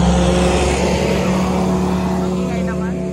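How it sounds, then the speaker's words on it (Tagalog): Road traffic in Rome rolls past close by, a loud continuous engine rumble and tyre hiss that slowly fades as vehicles move away. Voices may sound faintly underneath. "Traffic."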